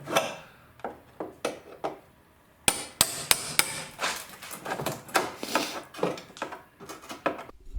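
A hammer drives a chisel into the rocker panel of a Mercury Sable, giving irregular sharp metallic strikes close by, sparse at first and then quicker and more rapid.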